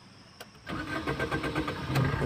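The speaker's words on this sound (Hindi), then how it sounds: "दरवाज़ा बंद, गाड़ी स्टार्ट।" A car engine starts on a street in Dehradun: a short crank catches and settles into a steady, fairly loud idle that rumbles on with no talking.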